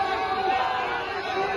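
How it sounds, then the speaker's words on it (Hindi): A dense crowd at the Jaisalmer desert festival makes a continuous, loud murmur that fills the whole moment. "आसपास जो भीड़ है"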